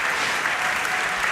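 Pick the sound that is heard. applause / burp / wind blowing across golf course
applause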